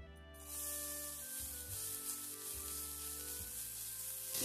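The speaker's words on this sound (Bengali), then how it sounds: "এর মধ্যে দিয়ে দিচ্ছি একটু পেঁয়াজ কুচি" Chopped onion hits hot white oil in a pan and sizzles loudly and steadily, a bright continuous hiss with low kitchen hum beneath, no talking.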